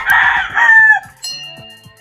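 Caged male chicks give loud, piercing peeps in quick succession, close by, with softer chirps and clucks in the background.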